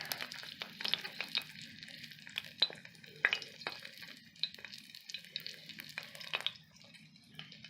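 A dollop of batter frying in hot grease on a Volgelzang box stove, a steady soft crackling sizzle with scattered pops, close but fairly quiet.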